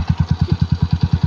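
A motorcycle engine runs steadily at close range, its rhythmic low putter pulsing about ten times a second with a slight clatter on top, heard alone without voices.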